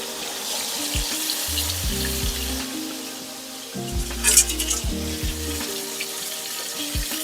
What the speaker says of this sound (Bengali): আমি সবগুলো মাছ একবারে দিয়েই ভেজে নিচ্ছি কারণ কড়াই জায়গাটা অনেকটা আছে